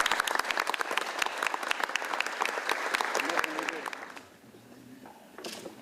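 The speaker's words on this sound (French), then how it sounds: "je vous demande de les applaudir très fort" Crowd at the 70th anniversary ceremony of the 1942 Dieppe raid applauds heartily: dense, loud clapping that fades out after about four seconds, leaving a quieter room with a brief final burst of claps.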